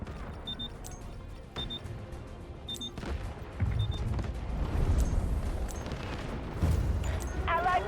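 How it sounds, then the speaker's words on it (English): Artillery barrage in a military video game: repeated heavy booms and rumbling blasts building over continuous battle noise, loud and close, with scattered sharper cracks. "Roger that, artillery barrage incoming."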